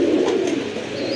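A milk-white Indian Bombay pigeon in a loft gives a single close, soft, throaty coo, heard alone.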